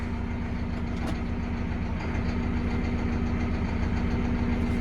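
A tractor engine idling with a steady low throbbing drone and a constant rattling clatter, close and loud, unchanging throughout with no talk.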